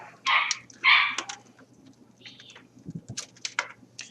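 A few sharp dog barks ring out early, followed by scattered lighter barks and yips at a moderate distance in an otherwise quiet setting.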